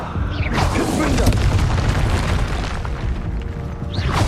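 A Confringo fire-blast spell from Hogwarts Legacy, booming over a dense, continuous rumble of game combat effects, with sharp bursts near the start and end and a voice calling out spells.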